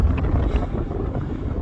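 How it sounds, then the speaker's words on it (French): A strong headwind buffets the microphone during a long road-bike ride from Paris around Lac d'Orient in the Forêt d'Orient, making a loud, continuous low rumble with gusty swells and no voices. "Mais le plus dur pour nous, depuis le lac d'Orient, on a le vent de face."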